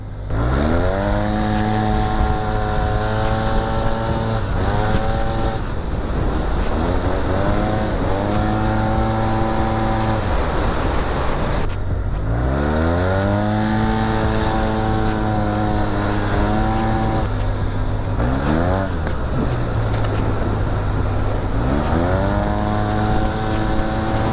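A Yamaha TMAX 530 maxi-scooter engine revs hard and accelerates again and again at speed, its pitch climbing and dropping through repeated surges, loud and close throughout.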